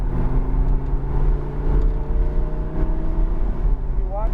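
A car on the New Jersey Motorsports Park race track as throttle is applied: a loud, close engine roar with steady harmonic drone that climbs sharply in pitch at the very end.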